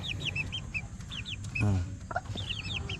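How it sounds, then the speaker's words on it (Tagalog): Two-week-old chicks in a coop peep in high, rapid chirps, while older hens cluck lower nearby and one brief louder squawk stands out. The sound is steady and close, with no speech. "So update, ito yung update natin sa mga manukan natin, sa mga sisiw natin."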